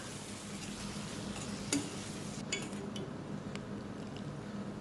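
Brinjal with masala stir-fried in a pan, a soft continuous sizzle with occasional light scrapes and taps of a spatula, fairly quiet and steady.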